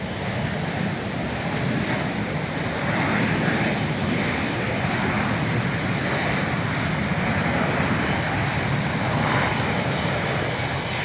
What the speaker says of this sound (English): We do see an airplane coming.